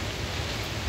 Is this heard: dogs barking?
no